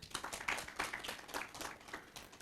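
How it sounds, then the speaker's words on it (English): Light, scattered clapping from a small crowd at a scholarship launch event, a few hands beating irregularly for a couple of seconds. "Another round of applause."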